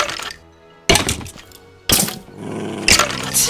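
A tamed dog in Minecraft gives three sharp, loud barks or thuds spaced about a second apart, close and clear, with no talk over them.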